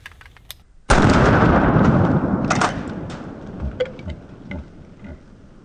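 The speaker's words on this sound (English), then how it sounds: "with the birdshot, this thing surprised me with how soft shooting it was" A shotgun firing birdshot lets off one loud, sharp blast whose reverberant tail rumbles and fades over several seconds, with a few fainter pops and knocks after it.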